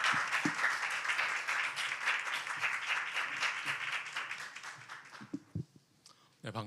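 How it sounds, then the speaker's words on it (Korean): A church congregation claps warmly to welcome a missionary from Sydney, Australia, the applause dense at first and then thinning out into a few scattered claps and quiet shuffling near the end. "우리 큰 박수로 환영하도록 하겠습니다."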